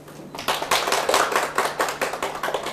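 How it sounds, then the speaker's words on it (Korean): A small group in a Korean real estate law lecture hall claps for first-time attendees, a quick run of individual claps at a moderate level without any talking. "박수 쳐주세요."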